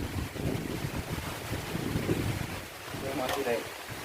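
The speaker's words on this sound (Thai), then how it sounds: "ลมมาแล้วฝนมาแล้ว" Strong gusting wind roars and buffets the microphone as a rainstorm arrives, a loud, uneven rumble that eases briefly, with a faint voice near the end.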